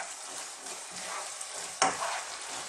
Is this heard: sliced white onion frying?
yes